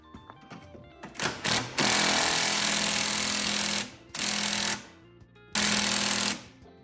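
A cordless brushless impact wrench hammers on an 18mm steering coupler nut of a Foxbody Mustang, firing in loud, close, rattling bursts: one long run, then two shorter ones, with no talk.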